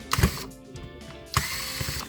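Small screws being backed out of a Nokia 3510 phone with a screwdriver, giving close, faint ratcheting clicks in two short bursts with a quiet pause between.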